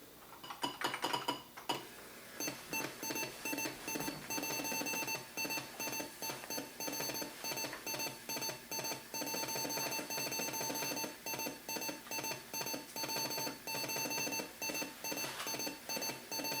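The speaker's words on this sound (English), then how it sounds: "There are little pauses in the beeps." An Indus GT floppy disk drive hooked to an Atari 800XL beeps steadily while loading, a rapid chain of electronic tones broken by brief regular pauses, close and fairly loud, with no talking over it.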